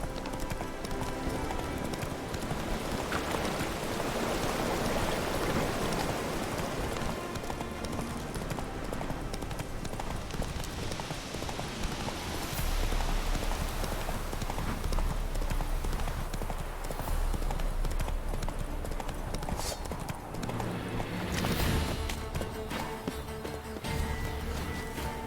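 Roach the horse's hooves clip-clop steadily in The Witcher 3, a continuous trotting rhythm under busy game ambience and music, with some faint speech.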